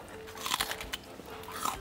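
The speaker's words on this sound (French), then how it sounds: "je me permets d'enlever un peu la peau quand même sur l'oignon pour que ce soit un peu moins croustillant" Someone bites and chews into a raw onion with its skin on, giving several close, crisp crunches in quick succession, fairly quiet with no talk.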